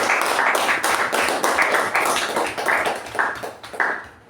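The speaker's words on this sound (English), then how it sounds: "let's give a round of applause for both the speakers" A room full of people at a Toastmasters club meeting breaks into a round of applause, a dense, steady patter of many hands clapping together that holds for a few seconds before thinning out.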